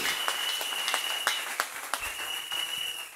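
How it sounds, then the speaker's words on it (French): Church congregation applauding together in worship, a steady wash of many hands clapping with sharper individual claps popping through, fairly close and sustained throughout. "Beti maboko makasi pona mokonzi ya mokonzi."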